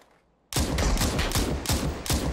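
Rapid gunfire in a battle royale shooter game starts abruptly after half a second of quiet: a loud, close burst of repeated shots in an uneven rhythm, with no voices.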